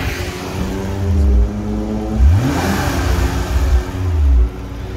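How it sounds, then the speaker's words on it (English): The engine of a warmed-up 2010 Nissan GT-R revs several times, each blip rising sharply and falling back to a steady idle, loud and close with no talk. "I'll rev it up a little bit so you can hear it."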